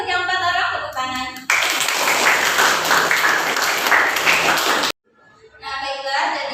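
Classroom applause for four students bursts out as a dense, steady patter of many hands clapping for about three and a half seconds, with a teacher's voice before and after.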